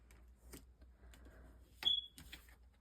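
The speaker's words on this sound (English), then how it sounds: "my smoke alarm keeps going off" A household smoke alarm gives one short, high electronic chirp partway through an otherwise quiet indoor room, with faint background hum and small knocks around it.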